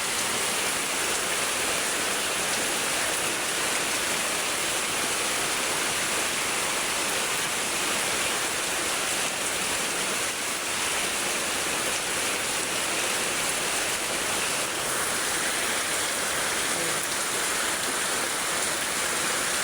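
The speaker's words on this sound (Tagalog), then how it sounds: "Lumalakas na yung baha guys, oh." Floodwater rushing steadily and loudly, a continuous dense roar of flowing water with no break, no voices.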